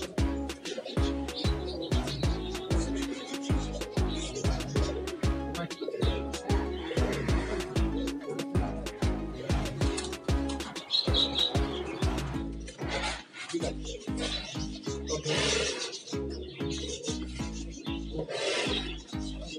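Many Pakistani pigeons in a loft keep up a dense, rhythmic chorus of throaty coos, close and fairly loud, with scattered chirps and no talking.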